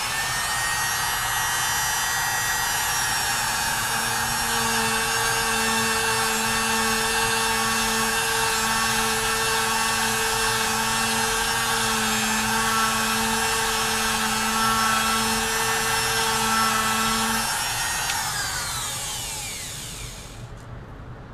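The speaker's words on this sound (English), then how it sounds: "I'm going to start with the router, and I'm going to zigzag back and forth, and I'm going to clear out the center of the pocket." A handheld router zigzags back and forth clearing a pocket in foam for a tool organizer, a loud steady high whine running continuously for about eighteen seconds before spinning down.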